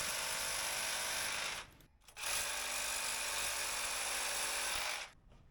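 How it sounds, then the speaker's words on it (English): A power tool grinds steadily through masonry ties on a steel door frame set in masonry, with a loud sustained cut that pauses briefly and then resumes for several seconds before stopping. "So here I'm just cutting off the masonry ties"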